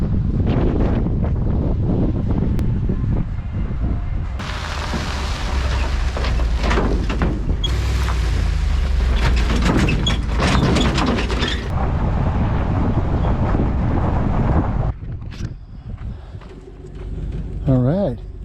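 Strong, gusty wind outdoors on open water during a downwind leg of a camping and fishing trip, roaring loudly and buffeting the microphone almost continuously, easing somewhat near the end.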